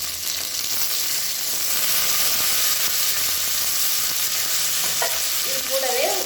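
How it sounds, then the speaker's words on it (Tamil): About twenty whole shallots fry in hot oil in a pan for a lunch box dish, giving a steady loud sizzle with occasional stirring scrapes, close up and uninterrupted. "இப்போ இதில் சின்ன வெங்காயம் முழுசாக அப்படியே சேர்த்துக்கலாம்."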